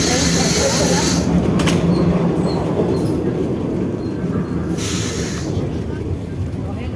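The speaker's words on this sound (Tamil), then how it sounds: "ட்ரெயின் கோவில்பட்டியிலேருந்து ஃபுல் ஸ்பீடில் போயிட்டுருக்கு" A train running at full speed out of Kovilpatti toward Chennai rumbles along, a loud, steady roar of wheels and rattling carriages heard from inside, with occasional sharp clacks.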